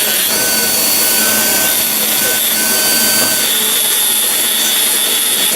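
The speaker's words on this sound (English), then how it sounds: "I'm going to just take a little of the excess, the little spurs, sharp areas off with this big burr" A large dental burr grinds excess material and sharp spurs off an edentulous custom tray, giving a continuous, steady high-pitched whine with a gritty rubbing texture throughout, loud and close, with no talking.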